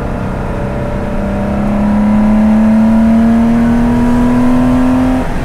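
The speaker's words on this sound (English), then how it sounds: "you can rev the nuts off this motor" The engine of a 1973 Porsche 914/6 sports car revs up steadily, its pitch climbing smoothly over several seconds, loud and close, with no talking.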